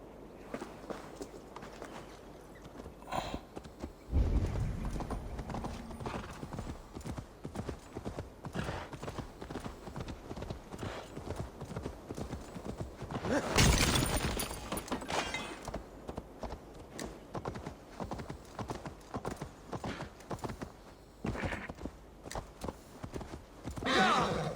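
Horse hooves clip-clop in a steady walking rhythm throughout a stretch of Assassin's Creed Valhalla gameplay, moderately loud, with a louder snort or whinny-like burst partway through.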